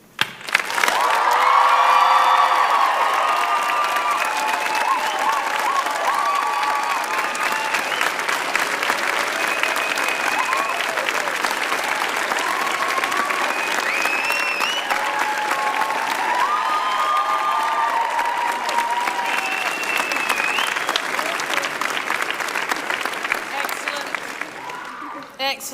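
An audience at a winter university graduation ceremony for a School of Education applauds and cheers loudly and steadily for about twenty-five seconds, with dense clapping and scattered whoops throughout.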